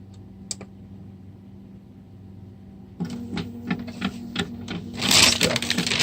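A lab dechorionator machine runs its mixing motion to strip chorions from embryos: after a quiet start it sets up a steady, rapid mechanical clicking and rattling that grows louder near the end.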